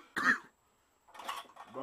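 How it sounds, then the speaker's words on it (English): Person coughing during a cinnamon challenge, a sharp cough burst close to the mic, then a pause and more rough coughing or throat clearing mixed with a voice. "I haven't even had this shit and I'm coughing"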